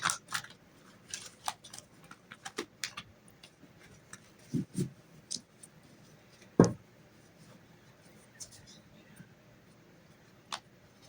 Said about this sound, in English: I've been shuffling these cards, and this is two of the same decks combined.